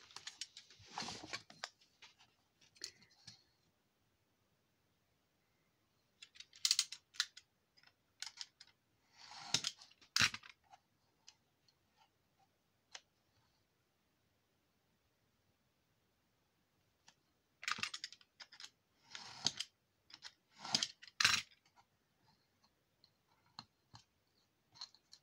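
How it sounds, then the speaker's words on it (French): A craft knife scores and slices through paper in short scratchy strokes, scattered bursts of close crisp scraping separated by quiet pauses. "Et on va prendre le cutter."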